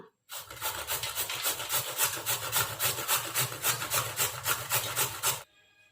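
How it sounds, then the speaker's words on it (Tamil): A peeled beetroot is rubbed against a grater, a fast, even rasping rhythm of about a dozen and a half close strokes lasting around five seconds, then stopping. "இதை வந்து நம்ம நல்லா மெல்லீஸாக துருவிக்கலாம்"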